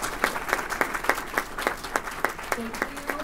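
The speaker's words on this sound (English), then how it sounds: "let's give a round of applause for our amazing panelists." A panel discussion audience claps for the panelists in crisp, evenly spaced claps, sounding like a small group, with a voice starting near the end.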